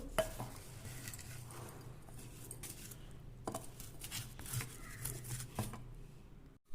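A spoon scraping and clinking in a bowl while salt is stirred into a mango pickle mixture, irregular metallic taps and scrapes at close range, no talking.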